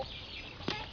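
A five-month-old fighting cock gives a brief, close cluck over faint background noise.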